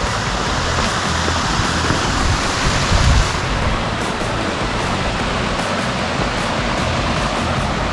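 A waterfall on the Fiery Gizzard trail pours in a loud, constant rushing roar, close by and unbroken for the whole stretch.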